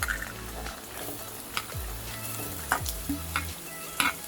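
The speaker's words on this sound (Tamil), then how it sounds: "இந்த ஸ்டேஜில் நம்ம கட் பண்ணி வச்ச கேரட்டை போட்டுடலாம்" Cut carrots stir-fried with sautéed onions for a carrot poriyal, a soft continuous sizzle broken by repeated scraping stirs of a spatula across the pan.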